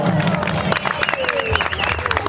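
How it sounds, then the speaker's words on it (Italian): Applause from an audience at a bar theatre show in Bosa, a dense patter of clapping mixed with crowd babble and a few voices, while tonal singing or music runs underneath. "fate un applauso"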